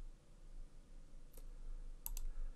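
Computer mouse clicks on a button, two or three sharp close clicks late in the moment, preceded by a single fainter click, over quiet room hum.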